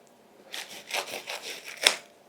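A knife sawing through a ripe jackfruit in a home kitchen, several rough, scraping strokes close by with a sharper final cut near the end, no voices.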